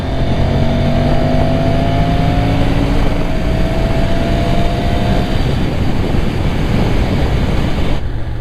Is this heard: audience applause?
no